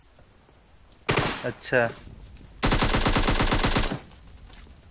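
Automatic gunfire rattles in a PUBG Mobile squad match: a short rapid burst, a brief spoken word, then a longer sustained volley of quick shots that stops abruptly.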